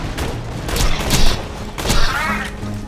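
Gunfire from the video game Borderlands 2 fills the track with loud, close bursts of rapid shots and booming impacts over a layered game soundscape.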